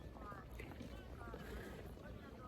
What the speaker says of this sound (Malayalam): അതാണ് ബോട്ട് പോകുന്നത്